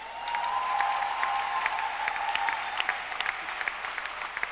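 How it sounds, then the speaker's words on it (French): Congregation at a French-language church service breaking into sustained applause, a dense steady clatter of many hands with scattered sharper claps, filling the space without pause. "Acclamons pour les Juifs."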